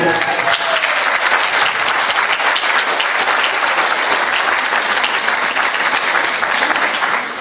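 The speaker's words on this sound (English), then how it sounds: "If I start the applause right now for Penny Pretty" Dense, loud audience applause at a live announcement event for a Surrey schools team, steady and sustained clapping from many hands with a voice faintly under it.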